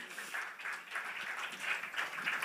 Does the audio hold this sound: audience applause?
yes